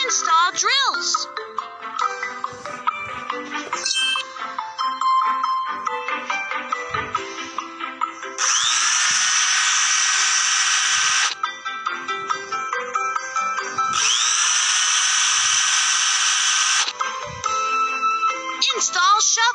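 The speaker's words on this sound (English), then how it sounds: "Install drills." A cartoon excavator drills through slate in an earthquake rescue scene, two sustained loud buzzing whirs lasting a few seconds each over bright, tinkly background music and a narrating voice.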